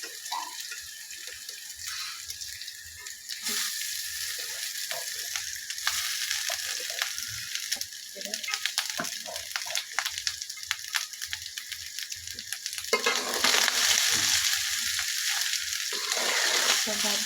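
Leftover rice is tossed into a hot pan and fried, giving a continuous hissing sizzle broken by scraping stirs. The frying swells louder near the end.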